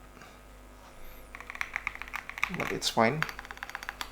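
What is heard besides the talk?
typing on a Chilkey PAW65 Bluetooth mechanical keyboard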